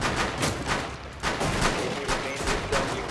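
Rapid bursts of video game gunfire, with shotgun and automatic shots cracking in quick uneven volleys, loud and close throughout with no pause.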